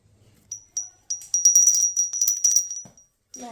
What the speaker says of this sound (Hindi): और मैं लेकर आई हूँ ये घंटी,